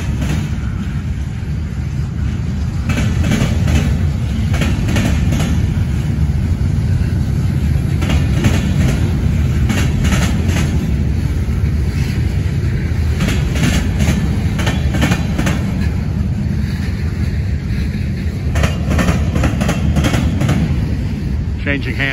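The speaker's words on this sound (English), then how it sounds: "Getting some classic cars on this train." Norfolk Southern freight train carrying classic cars rumbles past close by with a heavy low roar and rhythmic clickety-clack of wheels over rail joints, a voice occasionally speaking over it.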